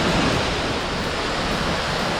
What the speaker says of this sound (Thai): ก็ยังเป็นน้ำตกชั้นที่เก้าอยู่นะครับตรงนี้ในบริเวณนี้นะครับ